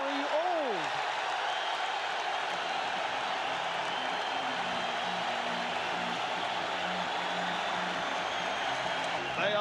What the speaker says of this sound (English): They are still standing and cheering for the New York Knicks